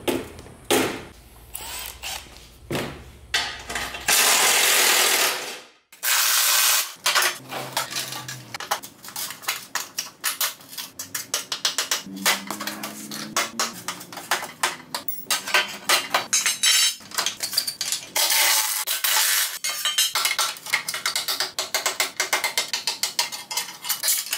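Hand tools stripping brackets and hardware off a dented Ford truck bumper: close, continuous metallic clanking, ratcheting and clinking with occasional heavy knocks and a brief loud burst, no talking.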